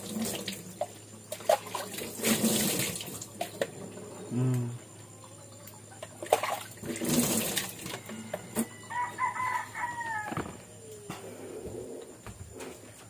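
Water runs and splashes in uneven surges against a steady background hiss, while a rooster crows somewhere in the distance.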